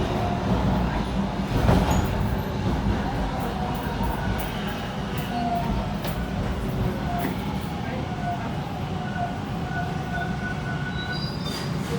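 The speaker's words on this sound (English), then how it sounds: "And it looks like I might catch this train here." Subway train pulling into Yonge Station on Toronto's TTC system, a loud steady rumble of wheels on rail with brief squeals, heard up close on the platform along with faint background voices.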